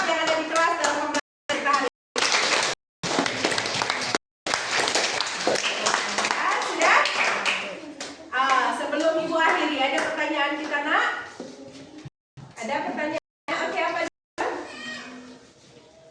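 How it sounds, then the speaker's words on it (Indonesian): In a classroom, students applaud a group of four, with a burst of clapping mixed with children's voices and chatter, broken by short silent gaps. "tepuk tangan dulu kita untuk kelompok berempat"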